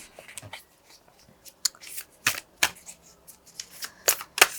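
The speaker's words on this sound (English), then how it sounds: "Now I will shuffle some oracles." A deck of spirit animal oracle cards being shuffled by hand, with a run of crisp, close riffling snaps and flicks in irregular bursts that grow louder toward the end, with no voices.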